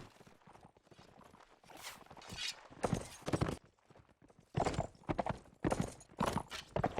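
Horse hooves clip-clop in a video game cavalry battle with two teams clashing on horseback, uneven rhythmic thuds swelling and fading in bursts amid a busy battlefield din.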